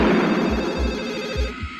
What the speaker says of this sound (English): The movie begins with a phone call.